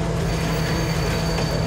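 A train rumbling around town in the video game Farming Simulator 19, giving a loud, steady rolling roar with a thin wheel-squeal tone running over it the whole time.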